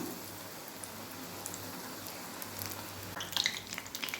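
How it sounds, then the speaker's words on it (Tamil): Potato bondas deep-frying in oil over a medium flame, a steady soft sizzle with faint crackling that grows busier and brighter near the end, fairly close and with no talking. "எண்ணெய் மட்டும் நல்லா காயாமல் மீடியம் ஃப்ளேமில் வச்சுட்டு சுட்டு எடுத்துடலாம்"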